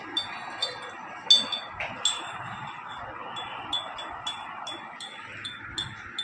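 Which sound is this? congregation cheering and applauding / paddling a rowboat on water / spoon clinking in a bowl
spoon clinking in a bowl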